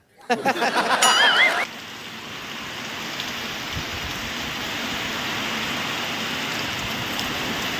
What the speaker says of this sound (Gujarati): જોરદાર વરસાદ આવે છે આજ તો લગભગ પૂર વ્યા જવાના છે